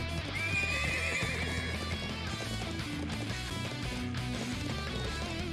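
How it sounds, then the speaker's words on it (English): A war horse whinnies shrilly near the start while hooves clatter, in the video game Trails of Cold Steel IV, all under a loud, dense layer of music. "These are war horses from a venerable bloodline."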